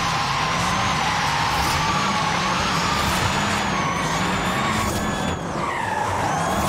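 An Xpeng P7 electric car drifts in the video game Forza Horizon 5, with sustained loud tire squeal and skidding over a steady engine drone, rising and shifting pitch for several seconds without speech.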